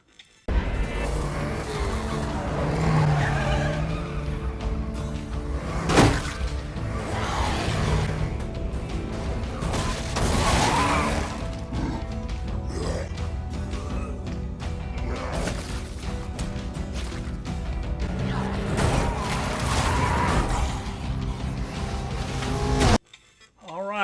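Car action from the State of Decay 2 video game trailer: engines roar alongside tire squeals, skids and several sharp crashing impacts, all sustained and fairly loud for about twenty-three seconds before an abrupt cut.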